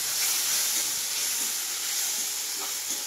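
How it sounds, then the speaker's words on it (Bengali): Spice paste of tomato, ginger, garlic and mustard frying in a pan gives a steady, close sizzling hiss that holds unbroken throughout. "আমি এটাকে ভালো করে ভাজবো।"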